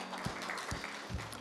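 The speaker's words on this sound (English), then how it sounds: "Let's give everyone a round of applause." Faint, distant applause from a church congregation, soft continuous clapping with a few louder low thumps, no voices over it.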